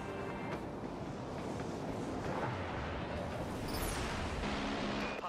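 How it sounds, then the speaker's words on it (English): Vulture missiles fire off in the space combat game Dreadnought, a dense, continuous roar of launches and rumbling blasts that holds steady and loud throughout. "Launching Vulture missiles."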